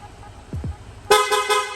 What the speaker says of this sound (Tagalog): ito naman po yung stock horn, loud horn